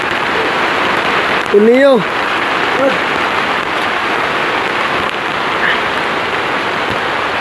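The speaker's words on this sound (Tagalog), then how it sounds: "At sobrang lakas ng ulan" Heavy rain pours down in a steady, loud wash that fills the whole clip, while someone briefly shouts over it.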